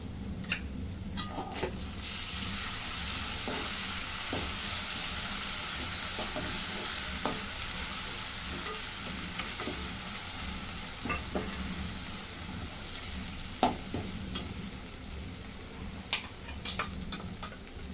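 Ginger-garlic paste sizzles steadily in a pan with well-browned onion, the broadband frying hiss continuous throughout, with a few sharp spatula scrapes and taps near the end as the mixture is stirred.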